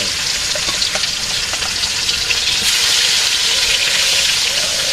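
Fish frying in a pan in a village kitchen gives a steady, loud broadband sizzle and hiss that runs unbroken throughout, with faint crackles and no talk over it.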